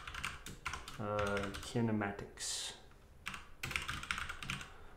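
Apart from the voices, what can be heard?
typing on a gaming computer keyboard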